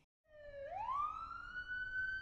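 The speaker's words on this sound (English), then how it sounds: "One Black Police Car." A police car siren wails, rising from a lower tone into a sustained high pitch, fairly loud and clear with no talking.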